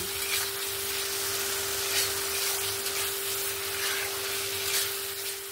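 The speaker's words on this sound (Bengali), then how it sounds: "আমি এখানে আলুগুলো যে ভেজে রেখেছিলাম প্রথমে এই আলুগুলো দিয়ে দেব। দিয়ে মশলার সঙ্গে ভালো করে 1 থেকে 2 মিনিটের মতন ভালো করে কষিয়ে নেব।" Potatoes stir-fried with spices in a pan give a steady, moderately close sizzle with light crackle, continuing evenly throughout with no voices.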